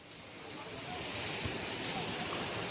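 Sea water surges and washes along the shore in Mumbai, a broad continuous rush with wind noise, faint and slowly growing louder with no clear voices.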